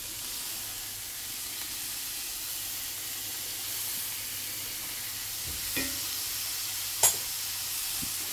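Peppers frying in a pan for a spicy turkey taco tot hotdish give a steady, soft sizzle and hiss throughout, with a couple of brief clinks or stirring knocks near the end.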